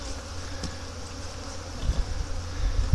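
A steady, low buzz of bees beside their hive hums throughout, with a few louder thumps and rustles near the end.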